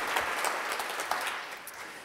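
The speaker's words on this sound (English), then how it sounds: "a little bit of a round of applause to all of our teachers" Steady, moderately quiet applause from a seated audience honoring teachers at an awards-style event, a continuous patter of many hands heard from a distance without any voices.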